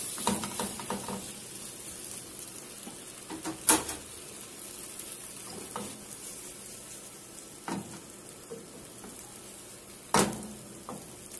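Spinach pancake batter fries in a non-stick pan with olive oil, giving a steady soft sizzle throughout, broken by a few sharp clicks and knocks of a utensil against the pan.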